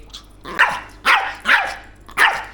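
A fierce Chihuahua in Thong Lo lets out four sharp, high barks at close range, in irregular bursts with short gaps between them.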